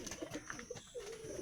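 Pigeons of a high-flying breed coo softly in a loft, low throaty murmurs rising and falling over a faint background hiss, quiet and fairly close.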